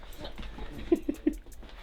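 A large 130-pound dog being moved gives three short, close whimpering yelps in quick succession over soft background noise.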